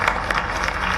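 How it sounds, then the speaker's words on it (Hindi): A brief, dense stretch of steady clapping as an audience at a ceremony in the Kalidas Sanskriti Academy, Ujjain, welcomes an honoree, with no voices over it. "तो सुखदेव जी के लिए जोरदार तालियों से स्वागत करें।"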